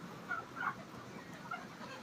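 Broiler chickens about 42 days old in a hot poultry farm shed give a few faint, scattered clucks over a low, steady background hum.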